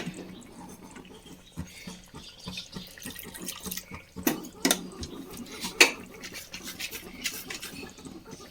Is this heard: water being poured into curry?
yes